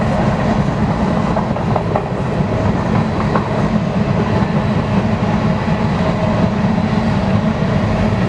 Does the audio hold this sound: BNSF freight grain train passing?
yes